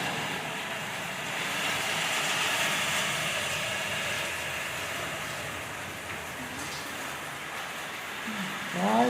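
Heavy rain drums down in a constant loud wash at night, swelling slightly midway, with a brief faint voice-like sound near the end.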